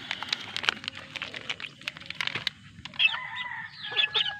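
Backyard chickens, a flock being let loose, clucking and calling in a steady busy chatter, with a rooster crowing clearly near the end, close by and fairly loud.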